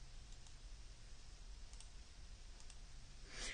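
A computer mouse gives a few faint, crisp clicks in small pairs spread across a few seconds, very quiet against a near-silent room.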